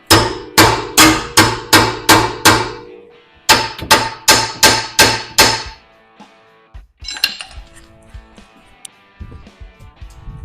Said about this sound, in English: I need to start hammering on this outer tie rod bolt or nut